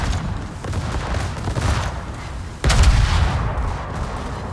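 Prinz Adalbert warship guns all firing together in the World of Warships naval game, a dense rumbling barrage of booms with a heavier salvo crashing in halfway through.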